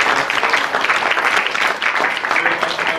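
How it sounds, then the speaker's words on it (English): An academic audience gives a rousing round of applause for a lecturer on academic freedom in Africa: steady, full clapping throughout, close and loud. "give another rousing round of applause to Dr."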